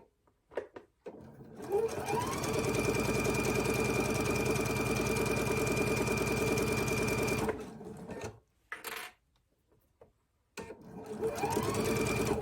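A sewing machine stitching a quilt block seam, whirring in a steady fast rhythm for several seconds up close, then stopping, a few short bursts, and starting up again near the end.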